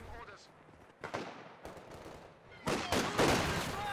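Machine gun and other gunfire in a Company of Heroes 2 match, with several sharp bursts and blasts that grow louder toward the end over game ambience and commentary.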